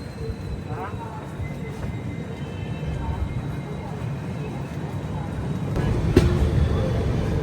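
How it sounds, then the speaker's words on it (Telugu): A train pulls out of Banaras railway station with a steady, loud rolling rumble and rattle that swells toward the end, while voices murmur underneath. "అది LTT వెళ్ళే బండి"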